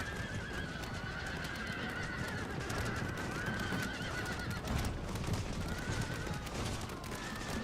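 Cavalry horses whinny and neigh repeatedly over a dense battle din of crackling volleys and rumble in Total War: Shogun 2, the whinnies rising clearly above the continuous noise.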